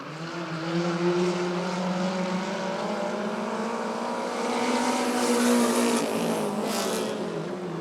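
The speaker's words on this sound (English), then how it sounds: "We are single file racing here as Cassidy Frisch looking to make a move on" Winged race cars on the Rockford Speedway oval make a steady, loud engine drone lasting several seconds, with pitch that rises and falls slightly as the cars pass through the turns in single file.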